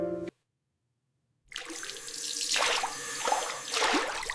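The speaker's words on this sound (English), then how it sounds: "Now I rinse the soap." Water runs from a bathroom tap as soap is rinsed off a face: after a moment of silence, a steady close hiss of flowing water begins, with splashing surges as hands scoop and rinse.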